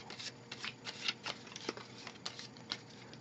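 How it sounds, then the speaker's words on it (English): A deck of discarded infection cards from the Pandemic board game being shuffled, quiet close ticking and riffling bursts in an uneven rhythm. "Take all these cards from the discard, shuffle them up"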